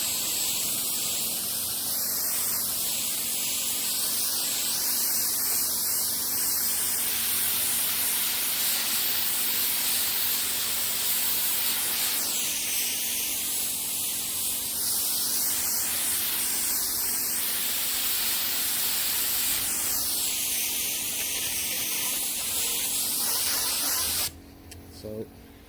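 Bullseye primer sprayed onto kiln shelves, a loud, continuous spray hiss in long passes with rising and falling pitch, ending abruptly near the close.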